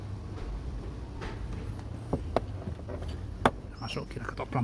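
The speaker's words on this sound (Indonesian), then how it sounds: "Masuk, kita ketok pelan-pelan." Pliers gently tap a new rubber door seal into place on an Isuzu Panther Kapsul/Touring door, giving a few soft, sparse knocks over low background noise.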